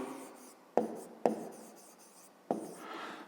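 Pen or chalk writes out a math expression in short strokes, with three sharp taps marking the start of new marks among softer scratching, close and quiet, with no talking.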